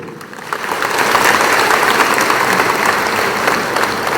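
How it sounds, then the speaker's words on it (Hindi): Loud, sustained applause from an audience at a Tipra community political gathering swells after half a second and holds steady for about four seconds, with no speech over it. "तो जोर से ताली दो।"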